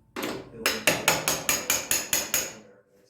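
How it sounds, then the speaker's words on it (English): A claw hammer strikes in a steady run of about eight sharp, ringing metallic blows, loud and close, with no talking. "Make sure you use a claw hammer."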